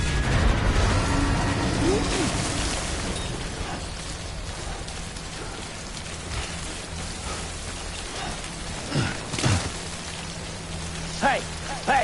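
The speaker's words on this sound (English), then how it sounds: "Don't stay out in the rain any longer than you have to." Timefall rain in the video game Death Stranding pours in a steady, dense hiss, with a few brief louder spatters and thumps near the end.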